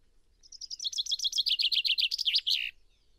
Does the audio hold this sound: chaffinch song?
yes